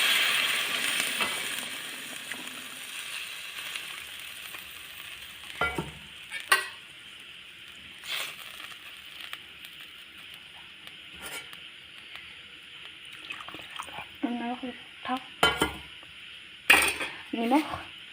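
Fish curry with onions cooking in a pan after water is added, with soft simmering and a spoon scraping and clinking against the pan in irregular bursts, fairly quiet and close.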